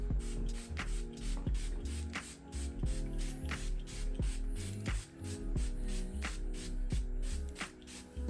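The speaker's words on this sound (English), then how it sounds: "So that spray is on." A hyaluronic face spray is pumped in a rapid series of short hissing spritzes, roughly a dozen bursts in a steady rhythm, close to the listener, with no talking.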